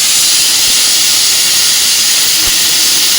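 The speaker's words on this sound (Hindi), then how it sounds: "ये आ गई सीटी" Steam hisses steadily from a pressure cooker whistle over a wood-fired stove while chole cooks, a loud continuous rushing sound that fills the whole clip with no talk.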